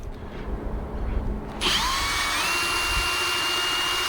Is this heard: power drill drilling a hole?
yes